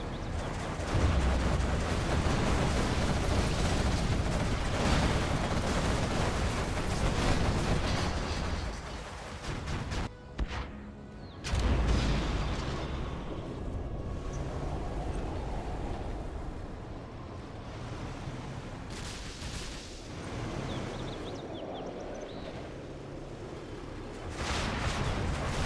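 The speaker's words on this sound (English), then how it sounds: "Scud launcher back in action." Scud launcher missile strikes in the Zero Hour real-time strategy game: rumbling, booming explosions roll on for the whole stretch with a brief dip midway, a continuous heavy wash of blasts and battle noise.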